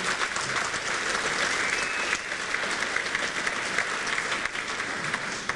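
A large audience at the Royal Cup competition applauds loudly in a continuous wave of clapping, with a faint crowd murmur underneath.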